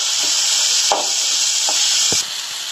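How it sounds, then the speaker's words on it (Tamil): Onion, tomato and tamarind sauté in a pan for pumpkin flower thuvayal, a steady close sizzle broken by a few soft spatula scrapes and taps against the pan. "சேர்த்துட்டு வதக்கலாங்க. ஒரு ரெண்டு நிமிஷம் வதக்கணும் இது தக்காளி."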